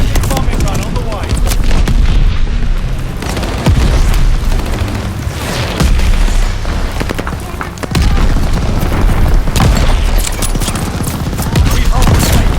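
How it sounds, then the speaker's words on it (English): Bombing run explosions in a sniper video game, dense rolling booms and bursts of gunfire that keep the sound loud and continuous, with game radio voices mixed in. "Friendly bombing run on the way."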